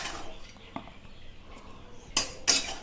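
A spoon scrapes and clinks against a flat dish while chicken cutlet mixture is moved into it, with soft handling noise and two sharper clinks near the end.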